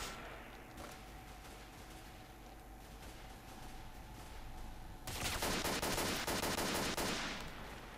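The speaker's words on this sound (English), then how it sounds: "Who are they shooting now?" Bursts of automatic gunfire from the video game STALKER, first muffled and distant, then loud, dense rapid fire erupting near the end.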